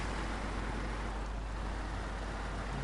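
Truck engine idling at tick over while wading through water in SnowRunner, a steady low rumble blended with continuous watery wash, constant and close throughout.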